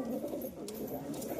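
A pigeon coos in low, continuous murmuring tones, close by and steady throughout, with faint rustling in the background.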